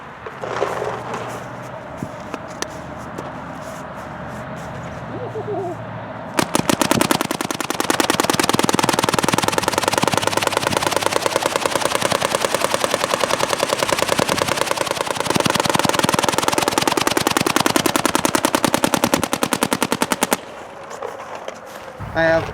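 A MacDev Prime XTS paintball marker firing a long, rapid continuous burst on an outdoor field, loud and close, with quieter single shots and background noise before and after the string.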